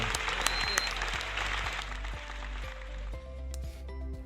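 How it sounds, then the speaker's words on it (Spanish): Audience applause rolls on steadily for a talk-show guest, a dense wash of clapping with a low hum underneath that tapers slightly toward the end. "Démosle un fuerte aplauso"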